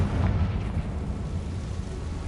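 A Confringo fire spell blasting in Hogwarts Legacy, one loud rumbling burst followed by a sustained low roar that slowly fades.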